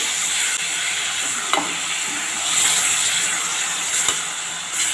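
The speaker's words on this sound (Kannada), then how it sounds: "ಈಗ ನಾನು ಹುಣಸೆಹಣ್ಣು ರಸವನ್ನು ಹಾಕ್ತಾ ಇದ್ದೇನೆ" Tamarind juice goes into a pan of brinjal and dried fish, giving a steady broad sizzle and frying hiss with light stirring clatter and a few brief sharper pops, close and continuous, with no talking.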